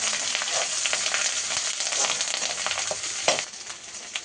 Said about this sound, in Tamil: இதையும் அதோடு சேர்த்து நல்லா வதக்குங்க